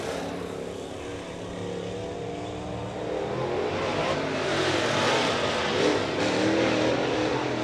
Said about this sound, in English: He'll be followed on the Speedway by car number 87 from Rome, Georgia, Zach Pilcher